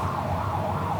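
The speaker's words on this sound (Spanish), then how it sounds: "van a que esperar un poco que pase la ambulancia" An ambulance siren passes in the street outside a lecture, a steady wailing tone that fills the whole stretch at fairly high level with low traffic rumble beneath.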